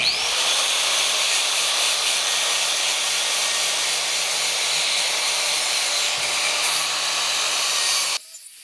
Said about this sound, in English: we're going to go through with the wire brush and hit all of it also